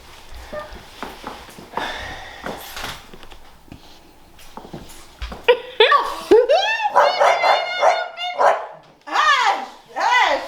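Dogs barking and yipping in a home, several rapid barks in bursts close by, with people talking over and between them.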